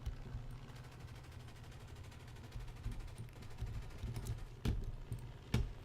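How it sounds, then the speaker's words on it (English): Rapid .50 cal machine gun bursts in the War Thunder video game, a steady low rattling stream of shots with a couple of sharper louder cracks near the end. "Let's just use machine guns on them."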